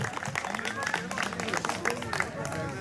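Applause from guests at a charity golf tournament awards ceremony, a short burst of mixed clapping with crowd murmur and voices over it.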